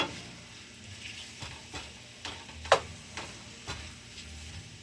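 Sweet onions cook in a pan with a soft, low sizzle, punctuated by occasional light clicks and taps of stirring, close and quiet with no talking.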